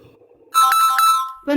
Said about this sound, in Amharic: ምን ሆነ ማለት ስልክ አሁን ይሰማል እኮ